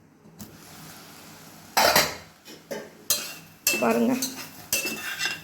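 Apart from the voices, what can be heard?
stirring intestine pepper curry in a pan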